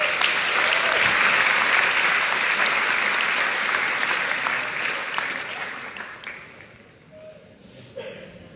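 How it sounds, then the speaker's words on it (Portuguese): A large audience at a motivational lecture in Angola breaks into loud, dense applause that holds steady, then gradually thins and fades, with a few voices surfacing near the end. "Uma salva de palmas."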